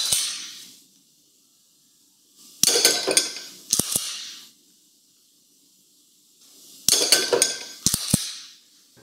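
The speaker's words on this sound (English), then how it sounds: "The pings you hear are from a solenoid hitting the bottom of the swinging steel plate." A solenoid striking the bottom of a swinging steel plate on a homemade laser dry-fire practice target, giving a few sharp metallic pings with ringing tails in small clusters, separated by near silence.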